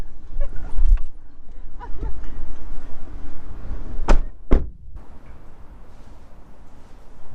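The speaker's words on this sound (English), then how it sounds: "The door's shutting on her." A house door shuts with two sharp, loud bangs in quick succession over a rumbling outdoor background, followed by a quieter stretch.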